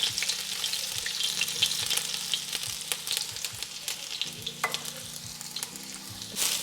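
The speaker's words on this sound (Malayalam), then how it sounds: "ഇത് വെളുത്തുള്ളി നമ്മൾ ചെറുതായിട്ട് ചോപ്പ് ചെയ്ത് വെച്ചിട്ടുണ്ട് നമുക്ക് ഇട്ട് കൊടുക്കാവേ ചൂടായി" Finely chopped garlic sizzles and fries in hot oil for fried rice, a close, continuous crackling hiss with occasional stirring clatter and no talking.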